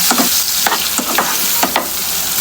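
Turmeric and coriander powder fry in a pan with chopped onion, tomato, ginger, garlic and cumin paste for a fish-oil chorchori, stirred in loud rhythmic scraping strokes over a constant sizzle.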